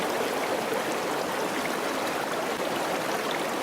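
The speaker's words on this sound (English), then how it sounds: "Flooded river," Steady, loud broadband rush of a flooded river flowing at the start of trout season, a constant close roar of water with no talking.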